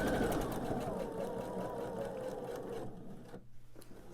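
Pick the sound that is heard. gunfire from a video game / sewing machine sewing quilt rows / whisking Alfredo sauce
sewing machine sewing quilt rows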